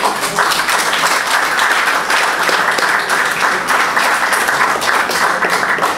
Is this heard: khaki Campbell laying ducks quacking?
no